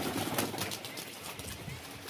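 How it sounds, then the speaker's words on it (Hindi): Startled pigeons in a loft give soft, low coos over a rustling, noisy background in a brief, close burst. "देखिए सारे कबूतर बिचक रहे हैं हमारे"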